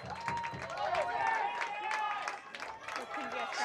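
Home crowd applauding and cheering at a Canada Games rugby sevens match, a rippling wash of claps and shouts with a commentator speaking over it.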